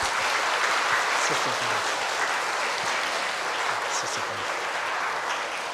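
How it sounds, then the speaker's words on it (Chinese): Thankful audience applause after a Buddhist Dharma talk, steady and dense throughout, with a voice speaking briefly over the clapping. "让我们以感恩的掌声再次赞叹法师的慈悲开示"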